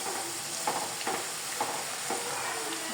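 Ginger sizzles gently in oil in a pan for chicken pickle, a soft continuous frying hiss broken by several quiet scraping stirs at roughly half-second intervals.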